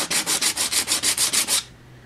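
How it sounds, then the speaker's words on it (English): A cardboard model coping stone is sanded along its edge at 45 degrees to form a chamfer: about ten quick, even rasping strokes in steady rhythm, close and clear, then stopping abruptly. "And then it's just a case of sanding it down"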